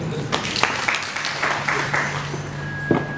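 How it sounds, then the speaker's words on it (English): A small group claps briefly at a company presentation, scattered hand claps over a murmur of room noise and faint voices, fairly near and short-lived. "Can we clap for you?"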